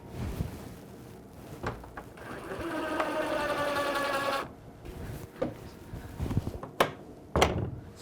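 A power driver sinks a screw into a soft pine board of a Z-back door, one steady whirring run of about two seconds, close by. Knocks and handling clicks come before and after it.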